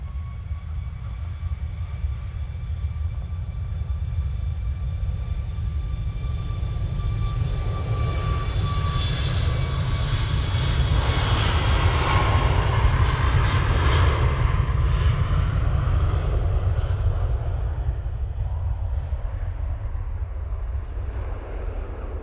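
A passenger jet bound for Sharm el Sheikh takes off from the Manchester Airport runway, a loud, steady engine roar with a rising whine that swells toward the middle and holds throughout.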